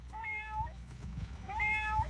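Cat rescued by firefighters from a burning house meows twice, two clear drawn-out cries about a second apart over a low background rumble, with no talking.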